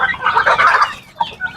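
Hens and newly hatched chicks cluck and chirp up close in a short burst of busy calls, with a lull before a few more peeps; some of the hens are Rhode Islands.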